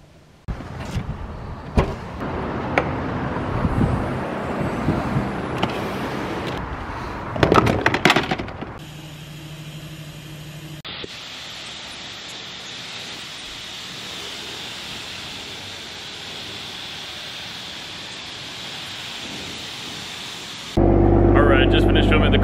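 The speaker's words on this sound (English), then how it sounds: "Just pulled up the car wash. Time to clean this." Car wash spray running beside a car, a steady hissing water noise that holds for long stretches after some handling sounds and a brief machine hum, loud and close throughout.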